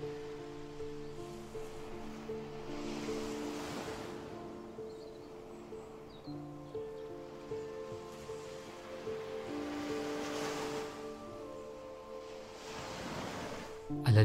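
Ocean waves wash onto a beach in slow, swelling surges that build and recede, a steady wash under sustained soft musical tones, with no talk.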